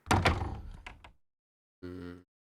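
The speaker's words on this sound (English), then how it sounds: "Double wood door." Heavy double wooden door sound effect previewed in a music production session: a dull thunk with a short rumble, then after a pause a second brief, resonant tonal knock or creak, close and clean with no talk.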